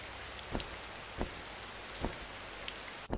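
Steady video game rain patters across a surface in Survive: Wilderness Survival, with a few louder drops landing at intervals over a constant hiss.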